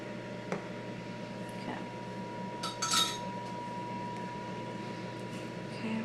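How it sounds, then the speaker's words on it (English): Banana nut bread batter being mixed with a spatula in a bowl, heard as a few light utensil clinks and soft scrapes, with a brief cluster of clinks near the middle over a steady low background hum. "Just mix it up."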